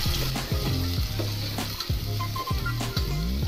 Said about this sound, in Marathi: कांदा छान प्रकारे परतला आहे